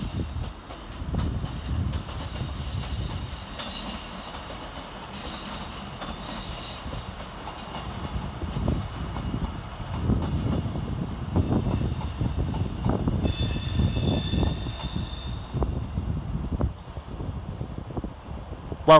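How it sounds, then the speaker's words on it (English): A Northern passenger train with a class 170 unit rolls through Leeds railway station, a steady low rumble with squealing wheels and rail clatter over about nineteen seconds, high-pitched screeches rising partway through amid open station ambience. "departing the other way is 17455 with the 11:59 Northern service to York via Harrogate"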